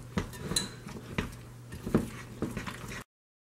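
A utensil scrapes and knocks against a bowl in irregular strokes as a thick, microwaved peanut butter and melted candy corn mixture is stirred, close by and fairly quiet.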